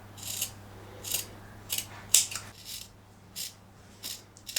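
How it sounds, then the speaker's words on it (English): Scissors cut an ordinary strip of cotton fabric, a series of about seven crisp, close snips spaced roughly evenly, each a short sharp slicing burst over quiet background. "So we're going to use just an ordinary strip of cotton. I'm going to cut it to 22 centimeters."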